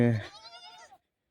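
A single goat bleat, loud and close, wavering for about a second before stopping.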